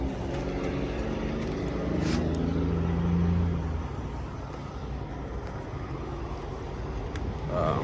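Cab interior of a Paccar truck rolling down a bumpy road in Swainsboro, Georgia: a steady low engine and road rumble with rattles and thumps, continuous and close, swelling slightly before settling.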